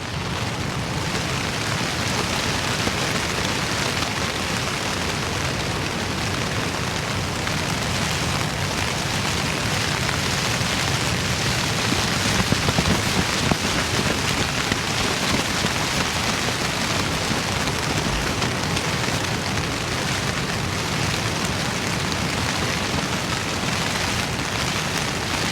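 Steady heavy rain drums on silnylon tent fabric during a solo coastal wild camp in high winds, a dense continuous patter held close and loud for the whole stretch with no voices.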